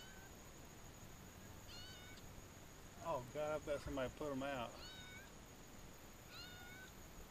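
A cat meows several times at a distance by a river, thin repeated cries, while a person speaks briefly over the quiet outdoor background.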